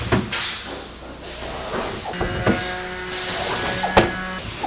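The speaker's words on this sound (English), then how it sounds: "we're going to rivet the tank into position" A pneumatic rivet tool sets rivets with backup washers, fixing a tank into position on a static fleet unit, giving repeated sharp hissing bursts and clunks at close range with no talk.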